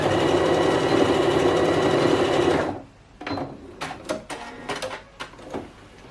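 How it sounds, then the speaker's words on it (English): A sewing machine stitches fabric close to a twist knot for a front dress, running loud and steady for nearly three seconds, then stopping, followed by softer clicks and fabric handling. "So you stitch as close as possible to your twist or to your knot, okay?"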